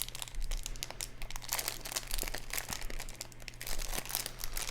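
Continuous crinkling and crackling of plastic packaging on a Nanoblock kit being torn open, close up, with sharp tearing bursts throughout and a low steady hum underneath.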